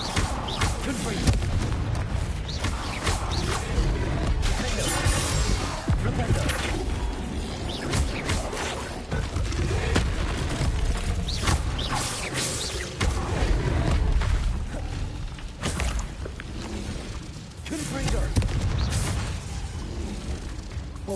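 Dense blasting and rumbling explosions from a Confringo curse in a Harry Potter video game, a continuous loud roar of booms and crashes with voices mixed underneath.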